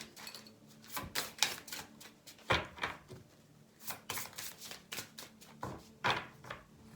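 Repeated bursts of crisp riffling and papery flutters, as of cards being shuffled, come in irregular clusters with short pauses between them, close by.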